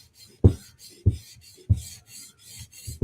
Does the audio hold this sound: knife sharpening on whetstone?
yes